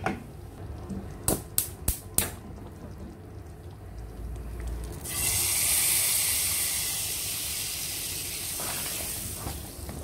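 Hot fried spice mixture poured into a chicken Mughlai curry, bursting into a loud, steady sizzle after a few sharp clinks and holding as a continuous hiss for several seconds.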